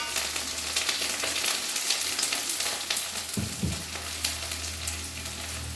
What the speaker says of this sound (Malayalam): അപ്പോൾ അതിലേക്ക് ഞാൻ ഈ സവാളയും കറിവേപ്പിലയും പച്ചമുളകും അതിലേക്ക് ഇട്ട് കൊടുക്കുകയാണ്